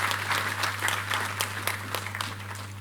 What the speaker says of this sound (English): Another round of applause, please, for the Honorable Minister